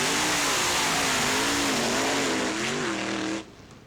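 Injected Ford drag race cars launch hard from the starting line, a loud, continuous high-revving engine roar with rising and falling pitch and some tire squeal, cutting off abruptly near the end.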